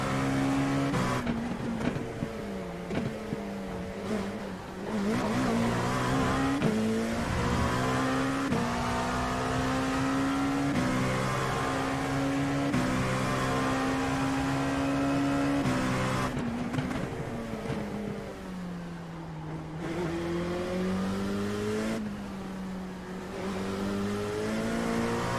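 A race car at Imola in a racing video game drones continuously at high revs, its engine pitch climbing and dropping through shifts and corners over a long lap, loud and close with no voice over it.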